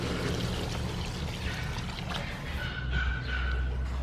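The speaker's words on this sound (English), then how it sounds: "Add some water." Water poured into a pot of beef stew seasoned with kaffir leaf and star anise, a steady close splashing pour running throughout the short stretch, with no talk over it.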